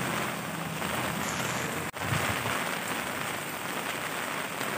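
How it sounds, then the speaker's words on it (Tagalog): Heavy typhoon rain from Typhoon Ulysses roars steadily in a dense, unbroken wash of noise, with a brief dropout partway through. "lakas ng ulan, ang lakas ng bagyo."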